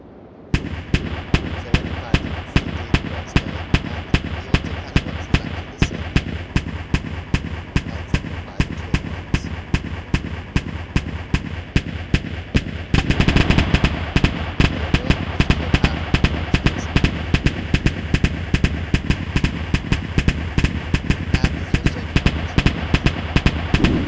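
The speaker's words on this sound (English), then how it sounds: "So every single autocannon will now have a tracer round." Autocannons fire tracer rounds in a modded ClockWork Nations game, a relentless rapid rhythm of evenly spaced heavy shots that thickens and grows louder about halfway through, continuing unbroken to the end.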